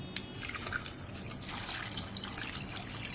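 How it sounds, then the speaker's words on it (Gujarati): Water is poured into a pressure cooker holding potatoes, soaked peas, salt and turmeric, making a steady close splashing and trickling with faint drips. "પાણી નાખી દઈએ"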